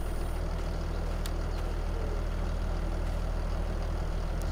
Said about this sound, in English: Great wee tractor, I love it.